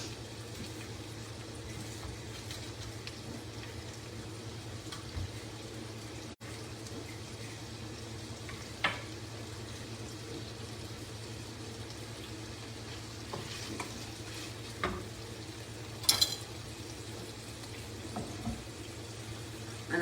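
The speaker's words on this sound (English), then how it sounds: "my bacon's cooking" Bacon fries in a pan with a soft, steady sizzle and crackle, faint and continuous, with occasional small clinks of a utensil and no talking.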